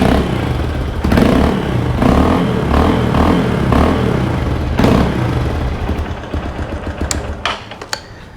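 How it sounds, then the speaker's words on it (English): A Hero Impulse motorcycle with a modified exhaust idles loudly close by, then revs in repeated blips with a rough, throbbing note before settling and sputtering toward the end. "The earlier owner had done some modification on the exhaust, so I'll just show you the sound note"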